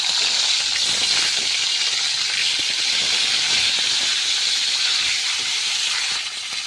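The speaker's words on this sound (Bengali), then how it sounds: "এদিকে ফ্রাই করতে দিয়ে দিলাম আমি বেগুনটা, ধীরে ধীরে ফ্রাই হোক।" Eggplant frying in a hot wok gives a loud, steady, close sizzling hiss that runs unbroken throughout.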